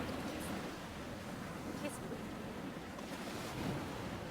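Sea waves wash steadily onto the shore at a seaside caravan campsite, a continuous broadband roar mixed with wind noise on the microphone. The sound is faint and even throughout, with no voices.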